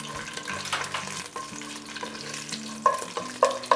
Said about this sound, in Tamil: அன்னாசிப்பூ, ஏலக்காய், கிராம்பு எல்லாத்தையும் போட்டாச்சு. இது நல்லா ஃப்ரை பண்ணிக்கோங்க.